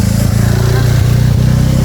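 Loud, close motorcycle engine droning steadily with a rough, buzzing rumble on a rice field walking path in Ubud, Bali, pitch dipping slightly as it moves past.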